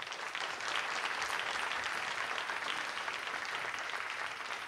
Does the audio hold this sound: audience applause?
yes